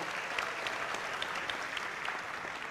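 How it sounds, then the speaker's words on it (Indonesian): A large audience at a presidential candidates' debate applauds in a dense, continuous wash of clapping that holds steady and fairly distant for nearly three seconds. "kita akan sama-sama memberikan apresiasi tepuk tangan kepada seluruh calon presiden yang sudah menyampaikan visi misinya"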